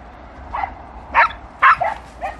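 A dog gives about five short, sharp barks and yips at an irregular pace, fairly close and clear over a quiet background.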